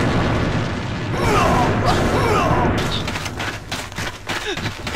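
A grenade goes off in Alliance of Valiant Arms, a loud blast followed by a dense crackle of gunfire and impacts, with voices over it.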